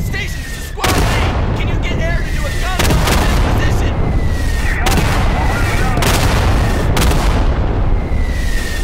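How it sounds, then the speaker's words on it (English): Artillery fire in Garry's Mod, a series of heavy booming blasts roughly every second or two, loud and close, with rumbling and shrill incoming whistles between impacts. "Artillery on the way."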